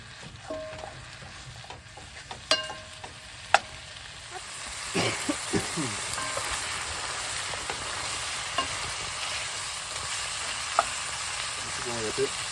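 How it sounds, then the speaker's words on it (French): Ground meat frying in a pan for a bolognese sauce, a steady sizzle running throughout with scattered clinks and scrapes of stirring, close and moderately loud, with no talking. "On va bien faire frire la viande parce que c'est ça qui va donner le goût à la sauce"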